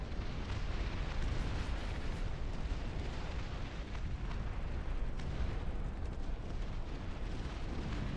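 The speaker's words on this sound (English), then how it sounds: "So we're going to open fire on this thing" Constant gunfire and explosions in the RTS game Dust Front, with turrets and tanks fighting, form a loud, unbroken barrage of booms and crackling shots with no talking.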